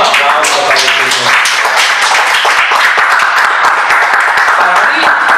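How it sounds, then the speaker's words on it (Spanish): A church congregation bursts into sustained, dense applause, with many hands clapping steadily for several seconds. Voices mingle in the crowd noise throughout. "Un aplauso para el Señor."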